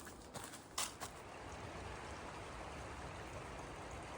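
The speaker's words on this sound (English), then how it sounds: "I am stopping here for water from the creek." Creek water runs steadily at the Big Cedar crossing on the Ouachita Trail: a continuous, even rushing wash, with a few soft knocks near the start.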